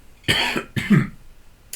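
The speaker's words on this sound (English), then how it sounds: "Sorry, I got to clear my throat." A person clears their throat twice in quick, harsh bursts, close to the microphone, followed by a brief faint sound.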